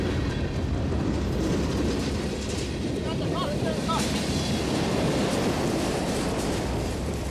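A northbound train rolls past on the rails with a steady low rumble and faint clickety-clack, loud and continuous throughout, with some voices murmuring underneath.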